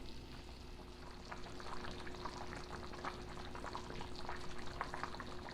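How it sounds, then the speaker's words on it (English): A Grenadian oil down stew simmers in a covered pot on low-medium heat, a low, steady bubbling with soft irregular pops, continuous and fairly quiet throughout. "keep it on a kind of a low medium boil"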